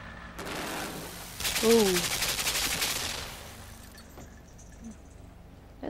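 Gunfire in the video game Limbo: a dense rattling burst of shots that lasts a second or two, loud and close, then a faint tail, with a short exclamation from a voice.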